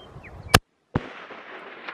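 A hunting rifle fires at a chamois on a West Coast New Zealand hillside: one loud, sharp crack followed half a second later by a second blast and a long rolling echo across open terrain.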